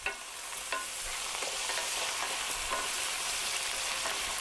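Black olives and aromatics sautéing in a pan, an even, close-up sizzle with faint stirring clicks throughout, no one speaking.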